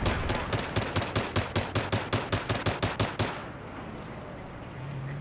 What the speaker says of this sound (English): I'm gonna take out this tank with my sniper rifle